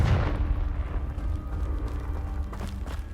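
A Confringo fire spell bursts in Hogwarts Legacy, a single heavy blast up front that trails off into a long, rumbling roar and crackle, with faint pops near the end.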